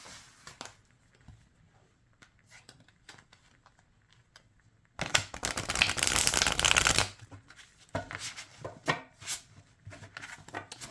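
Thick, slightly stiff tarot cards riffle-shuffled in a loud two-second burst, surrounded by quieter taps and shuffling of the deck before and after.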